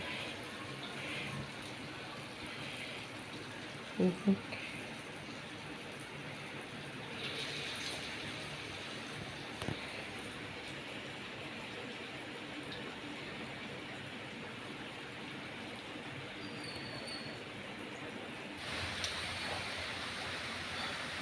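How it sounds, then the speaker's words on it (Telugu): Rain falls steadily outdoors as a constant soft hiss, with a few faint knocks and small handling sounds scattered through. "వర్షం ఇంకా పడుతూనే ఉన్నది వర్షం తగ్గట్లేదు"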